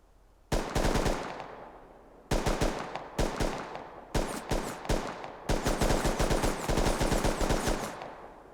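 Distant automatic fire from an LR300 rifle in the video game Rust, in several rapid bursts of sharp cracks with short gaps between them, fairly loud, with no talking.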